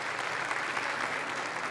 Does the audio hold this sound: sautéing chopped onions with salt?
no